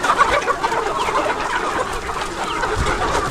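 Chickens on a poultry farm cluck and squabble as the flock rushes toward fresh greens, a steady, busy chorus of overlapping clucks and fluttering scrabble, close and fairly loud throughout with no talking.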